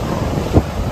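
Strong seaside wind at Old Digha buffets the microphone in a loud, low rumbling roar, swelling in a brief gust near the middle, with no talking.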